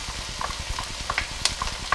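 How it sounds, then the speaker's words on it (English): Onions and garlic frying in a soup pot, a close, steady sizzle dotted with small crackles and pops, with no speech over it. "The onions are starting to cook now, so I'm going to go ahead and add my garlic."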